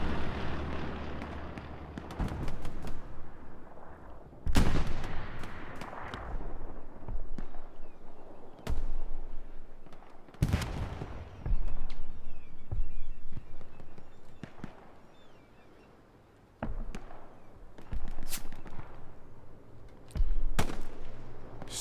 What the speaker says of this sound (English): Strafing run, bombing run combo to help cover it.